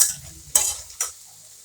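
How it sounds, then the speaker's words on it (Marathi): Potatoes being stirred in a frying pan, giving three short scraping strokes over a soft sizzle, each stroke sharp and close before fading quickly. "चला एका साईडला बटाटे टाकून घेऊ आपण हलवून घेऊ आपण छान"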